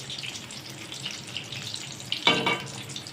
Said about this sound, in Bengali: আর যেহেতু এটা ডিপ ফ্রাই হচ্ছে তো তার জন্য পুরো ক্রিসপি ক্রিসপি হয়েছে